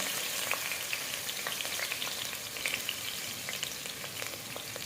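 Chopped garlic and ginger hit reused oil for a veg Manchurian gravy, giving a close, steady sizzle with crackling pops and light stirring, no talk.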